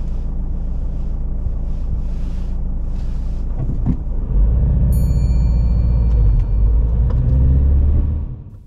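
A car pulls away during a UK practical driving test after an emergency stop. A low engine rumble swells as it moves off, and brief electronic tones sound from inside the cabin. It is heavy and close, with no talk.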